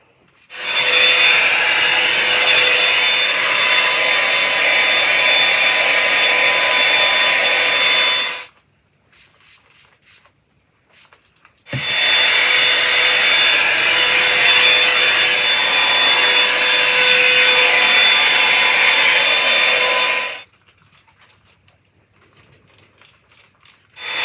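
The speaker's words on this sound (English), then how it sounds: "I am going to just put my blow dryer through this as well" A hair dryer blows loudly in two long bursts of steady whooshing, each about eight seconds, separated by a short pause with faint handling noise.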